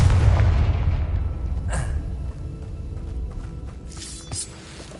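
A Confringo fire spell explodes in Hogwarts Legacy on PS5. Two sharp booming bursts about two seconds apart cut through a continuous low rumble of game ambience.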